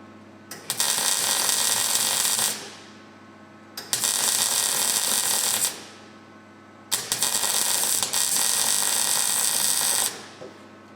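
Welding the steel mounting boxes for a car roll bar, laying an uphill vertical weld with a cap bead: three long bursts of steady crackling hiss, each about two seconds, separated by short pauses, close and loud.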